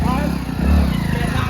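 A motorcycle engine idles and revs close by, a low steady rumble running under people talking.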